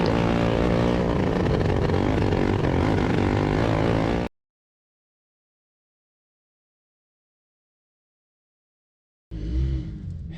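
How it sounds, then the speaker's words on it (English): A dirt track race car with a Weaver performance engine suffering carburetor issues roars loudly and steadily at a speedway, then cuts out to silence for several seconds before the engine noise returns. "Just as we take the green flag here, we actually start having some carburetor issues."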